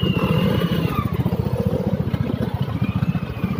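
A motorcycle engine rumbles steadily nearby on EDSA in Manila with a rapid pulsing throb, loud and continuous with no voices.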